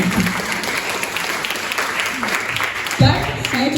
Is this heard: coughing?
no